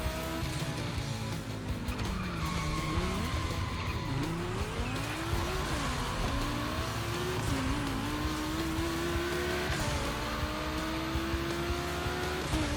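Volkswagen race cars in The Crew Motorfest gymkhana event, engines revving and rising and falling in pitch with tire squeal and skidding, loud and continuous throughout.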